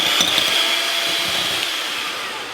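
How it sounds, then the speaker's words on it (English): An electric ice cream blender whisks two egg whites into meringue, a steady close motor whir with a high whine that holds even throughout, no talking. "So your 2 egg whites with an ice cream blender, get mixing it until it starts to make peaks."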